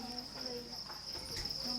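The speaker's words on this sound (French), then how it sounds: "je vais vous montrer comment j'élève mes grillons" Crickets chirp in a cricket farm set up in concrete breeding tanks under a house, a constant high, dense trilling from many insects close by.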